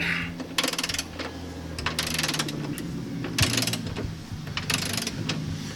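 A ratchet loosens the subframe bolts on a Genesis coupe, with several bursts of rapid clicking separated by short pauses, close up and fairly loud.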